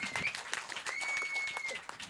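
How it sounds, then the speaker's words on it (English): A competition audience gives a round of applause, with faint, scattered clapping over about two seconds beneath a thin steady tone. "a round of applause"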